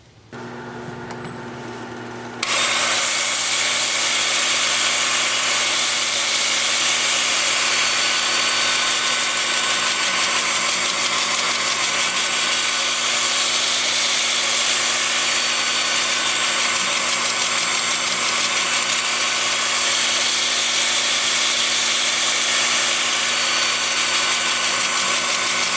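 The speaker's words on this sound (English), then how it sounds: "I'm going to start sanding at 80 grit with my 2-inch disc sander." A 2-inch disc sander on a drill grinds against wood spinning on a lathe, a loud, steady high whine with broadband rasp that starts after a short quieter lead-in with a motor hum, then continues without pause.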